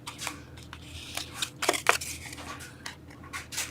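Scissors snipping paper while making a Merci chocolate box holder: a run of short, crisp cuts at close range, irregularly spaced and growing louder around the middle, with no voice over them.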